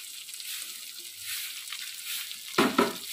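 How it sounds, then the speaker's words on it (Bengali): Carrots, beans and capsicum hit a pan of lightly fried onion, giving a steady close sizzle throughout, with two louder bursts of stirring or scraping near the end. "গাজর, বিন, ক্যাপসিকাম এগুলো সব দিয়ে দেবো।"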